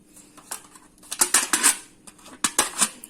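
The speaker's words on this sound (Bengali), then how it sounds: "এটা তোমরা এইভাবে এই সেফটি পিন দিয়ে ফুটো করে নিতে পারো" Light metallic clicks and crinkly taps as a safety pin pierces holes in a silver foil box, several quick irregular pokes in clusters, close and fairly crisp.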